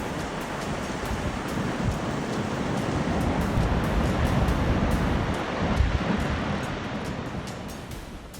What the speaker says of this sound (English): massive waves slammed Italy's coastline, seawater surging inland, while fierce winds made the scene extremely dangerous